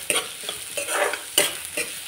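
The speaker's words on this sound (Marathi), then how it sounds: "आता आपण कांदो घालून घेऊया. कांदो चांगलं जरा परतून घेऊया." Onion sautéing in a pan for a Malvani clam dish, with repeated scraping stirs of a spatula in short bursts over a soft sizzle, close by, no voices.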